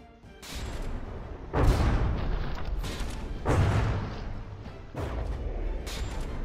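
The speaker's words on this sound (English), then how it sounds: "Like the explosions from the Goliath's shells" Heavy booming shell explosions in the game From the Depths, three big blasts spaced a couple of seconds apart over a rumbling, crackling naval battle backdrop.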